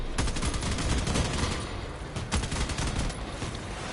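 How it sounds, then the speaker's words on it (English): Dense, continuous gunfire with heavy cannon blasts roars through vehicle combat in the game CrossOut, rapid overlapping shots and booming impacts sustained at high volume with no pause. "I saw missiles, so I'm not sure. Oh, cannon fire too."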